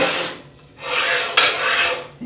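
A frame slides back and forth across a bandsaw table in two long rasping strokes with a short pause between, then a brief scrape at the end, close and clear with no voices.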